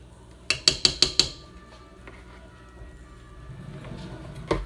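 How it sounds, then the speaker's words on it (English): A metal whisk clinks sharply against a pot of homemade cream of mushroom soup: five quick, evenly spaced taps, then a quiet stretch of soft stirring before another couple of clinks at the end. "I'm gonna get my whisk and whisk it to make sure it's all good and incorporated"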